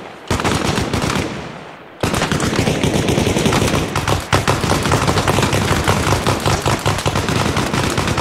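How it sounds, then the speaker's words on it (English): Machine gun suppressing fire from a .308 machine gunner in the video game Arma Reforger, set in a Vietnam jungle: loud, continuous rapid bursts close by, with a short lull before the firing resumes unbroken. "I need suppressing fire to our 308 machine gunner"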